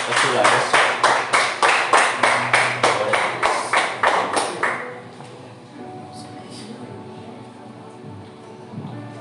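A church congregation claps hands in a steady rhythmic beat during a Sunday family service, loud and close for about five seconds before stopping, leaving a quiet room with faint murmurs.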